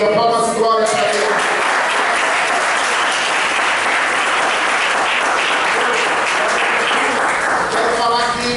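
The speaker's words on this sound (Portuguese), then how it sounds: "Palmas e glórias a Deus" Loud, sustained applause from a church congregation during a worship service, dense clapping filling the room with faint voices beneath before it eases at the close.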